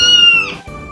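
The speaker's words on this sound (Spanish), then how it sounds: "Ahora, niños, vamos a aprender cómo hace el gato" A domestic cat gives a single drawn-out meow, close and clear, with a brief second meow following, heard alone without any talk.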